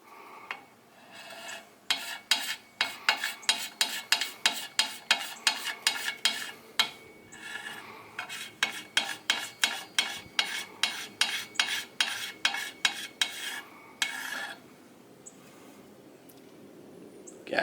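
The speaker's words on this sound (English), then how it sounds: "Gentle scraping with the carbide." A carbide scraper works old gasket material off a Honda minibike engine case, such as a Z50, CT70 or Dax, in a long run of quick, evenly paced rasping strokes with brief pauses, close and clear, with no talking.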